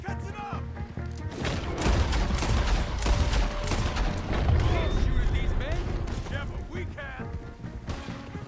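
Heavy gunfire in Red Dead Redemption 2, a dense, loud barrage of overlapping shots and crashes, with shouting voices mixed through the fighting.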